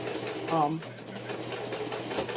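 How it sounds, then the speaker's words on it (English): A sewing machine back stitching over a dart in the lining of a bag, its motor whirring in a short burst, under a person speaking steadily throughout. "I always back stitch over the dart for stability and strength."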